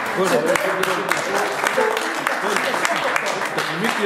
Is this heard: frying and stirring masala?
no